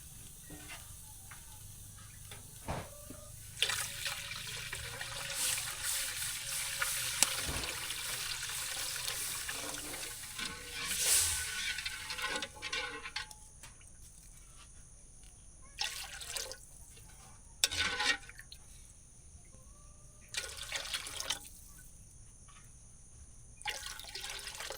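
Water poured from a pitcher in a home kitchen while cooking pancit, with splashing and trickling that rises and falls in several bursts and a few drips between pours, close and moderately loud.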